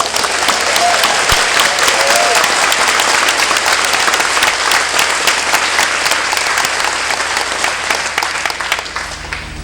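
A large outdoor crowd applauds and cheers loudly and continuously at the opening ceremony of the St Ayles Skiff World Championships, with dense clapping holding steady before easing slightly toward the end.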